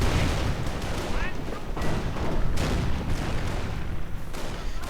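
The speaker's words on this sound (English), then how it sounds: "Snipers keep sniping away." Sniper shots and scattered gunfire crack repeatedly through a dense WWII strategy game battle, mixed with booms and a commentator talking over the din.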